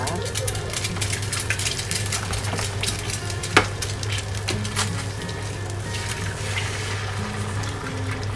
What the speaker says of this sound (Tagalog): magpiprito lang tayo ng egg